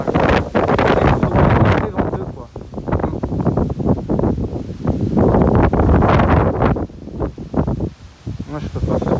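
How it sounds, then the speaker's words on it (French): Violent thunderstorm wind at Clermont-Ferrand, gusting around 90-130 km/h, buffets the microphone in loud, continuous roaring gusts that surge and dip without a break. "Ça fait chier ce vent quand même, hein."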